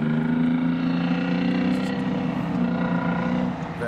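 Several Abbott tracked vehicles run around a track, giving a loud, steady, droning engine rumble that holds evenly throughout with no voices.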